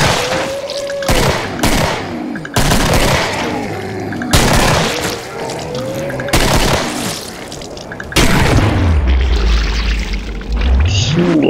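Gunfire in the co-op zombie shooter Killing Floor during its Twisted Xmas holiday event: loud, dense bursts of shots and booming blasts crowd in one after another with almost no pause, mixed with heavy impacts throughout.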